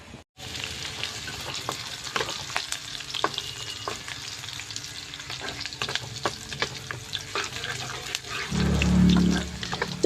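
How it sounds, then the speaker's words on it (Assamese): A vegetable stir-fry frying in a pan in a home kitchen, steady crackling sizzle with frequent stirring clatter, and a louder rushing surge near the end. "সোনকালে ভাজিটো বহাই দিও"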